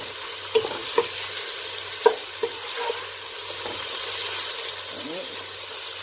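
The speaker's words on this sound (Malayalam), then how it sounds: "തക്കാളി ഇട്ടതിന് ശേഷം ഇത് നന്നായി ഒന്ന് മൂത്തിട്ട് വേണം നമുക്ക് പൊടികളൊക്കെ ഇട്ട് കൊടുക്കാനായിട്ട്" Tomatoes sizzle in hot oil in a pan for chole curry, with a steady frying hiss broken by several sharp clinks and scrapes of a spoon stirring.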